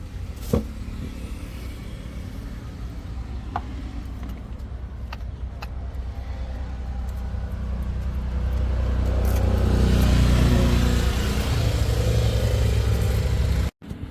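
Two 1/10 scale RC cars, a Traxxas Summit and an MJX Hyper Go, driving with a steady electric motor whine that swells louder in the middle, with a few sharp clicks early on and an abrupt cutoff at the end.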